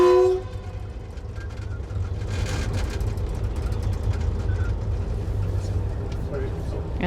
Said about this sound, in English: We're just coming into the final destination of this train in Lobito.